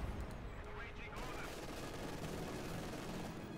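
An MG42 machine gun rattles in Company of Heroes 2, a quiet, continuous wash of rapid gunfire and battle noise under a dense mix, with no clear pauses.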